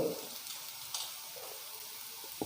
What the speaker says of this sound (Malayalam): നമ്മുടെ സവാളയും പച്ചമുളകും വെളുത്തുള്ളിയൊക്കെ നന്നായി വഴണ്ട് വന്നിട്ടുണ്ട്